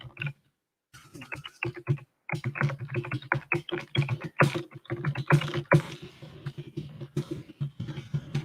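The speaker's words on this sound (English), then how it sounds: "so there I can't really talk while I'm typing" Rapid, uneven typing on a computer keyboard, close and fairly quiet, with dense bursts of key clicks after a short pause and no talking.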